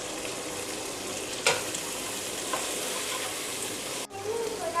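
Chicken frying in a pan with salt and chicken powder, a steady close sizzle and crackle with a couple of stirring scrapes and a brief clatter near the end.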